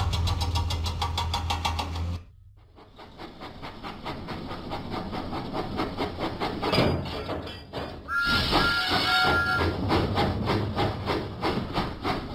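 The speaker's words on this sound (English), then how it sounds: "Huffing and puffing, Thomas set out for the diesel works." Steam engine Thomas from Thomas and Friends in a video game, chugging along with a steady rhythmic puffing under background game music, moderately loud with a brief dip near the start.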